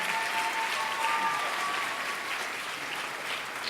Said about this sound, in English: So give him a round of applause for that.